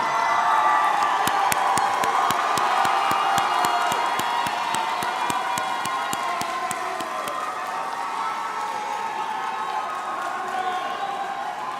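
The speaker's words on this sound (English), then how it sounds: "give them a round of applause" A graduation audience at a high school ceremony claps and cheers, with whoops and crowd shouts over rapid scattered clapping, steady and lively throughout, a voice occasionally audible beneath the noise.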